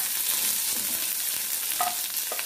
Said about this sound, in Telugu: ఆయిల్ హీట్ ఎక్కిన తర్వాత మనం ఆవాలు, జీలకర్ర, శనగపప్పు, మినప్పప్పు ఇవి వేగిన తర్వాత మనం